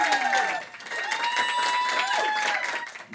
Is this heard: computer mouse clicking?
no